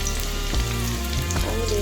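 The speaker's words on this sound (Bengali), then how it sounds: "রসুনটা দিয়ে দিলাম। এবার রসুনটা একটু ভাজা হলে" Finely chopped garlic fries in hot oil in a pan for chow mein, a close, continuous sizzle with a few faint stirring knocks and no talking.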